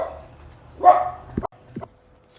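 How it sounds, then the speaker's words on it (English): Dogs get excited outdoors, with a short muffled burst of barking and a couple of quick yips at a distance, over faint room noise and a low hum. "My dogs are getting a little excited outside."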